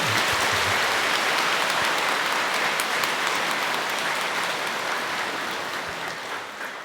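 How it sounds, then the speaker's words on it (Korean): Audience clapping at a Buddhist dharma talk marking the end of a winter retreat, a dense, steady patter of many hands that fades slightly toward the end, with no talk. "이 자리에 모이신 여러 도반들은 산성의 이 말을 철저히 믿고 그렇게 실천해 주신다고 박수를 치신 걸로 믿고"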